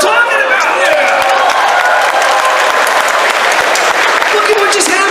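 A large crowd at a convention applauds and cheers in a dense, steady roar of clapping with whoops, loud and sustained throughout.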